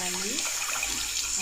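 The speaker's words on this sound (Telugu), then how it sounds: "వాటర్ పోసుకోవాలి." Water is poured into a cooking pan for an Andhra-style fish curry, a brief close splashing and trickling stream with a faint tonal gurgle as the pan fills.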